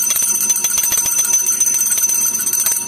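An old bell from Ouro Preto, Brazil, rings in rapid repeated metallic strikes with bright, sustained overtones. The ringing is loud and continuous and carries no voices.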